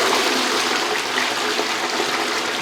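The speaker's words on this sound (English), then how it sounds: "now we'll just give that a flush." A newly installed toilet in a renovated bathroom flushes with a loud, steady rush of water that runs without a break, with no voices over it.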